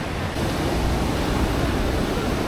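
Surf rolls in at Black Sand Beach in Kerala as a continuous, loud roar mixed with wind rush, with no voices.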